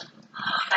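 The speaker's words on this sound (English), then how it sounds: "Say hi, Bree. Go. Woof, woof" A pet dog gives a brief, close, low growl that rises into a thin whimper, lasting under a second with no talking over it.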